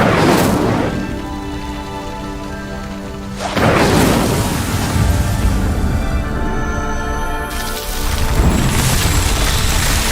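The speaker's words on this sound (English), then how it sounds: "The flames make the pyre sink." Fire spell blasts and a sinking pyre in Hogwarts Legacy sound as loud booming rumbles, in three heavy surges separated by a lingering roar.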